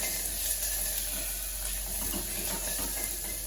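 Chopped tomatoes with turmeric sauté in a pan for sambar, giving off a steady, soft sizzle and hiss that runs unbroken at low volume throughout.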